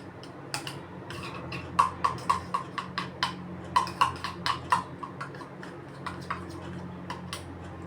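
Spoon mixing mango in a glass, pressed down hard: a run of quick, clear clinks of metal against glass in an uneven rhythm, close and fairly soft, with no talking.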